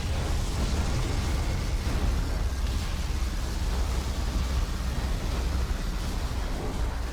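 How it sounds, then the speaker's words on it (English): Battle explosions from the real-time strategy game Command & Conquer Generals Evolution roar continuously, a dense wall of rumbling blasts and noise with no pauses. "No one wins this fight because it is explosions everywhere."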